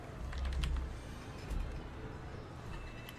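Typing on a computer keyboard, a few quick bursts of key clicks, fairly close and soft, with quiet pauses between.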